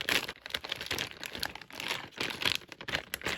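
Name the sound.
clear tape being handled, crinkling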